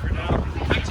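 Gusty wind buffets the microphone outdoors beside a tent at a truck festival at Bandimere Speedway, a steady low rumble with a couple of stronger gusts through the second, while a voice talks over it.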